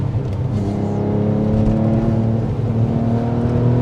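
A Porsche 911 Carrera 996 engine of 300 brake horsepower hums steadily with layered harmonic tones, pulling continuously at moderate, even loudness with no voices.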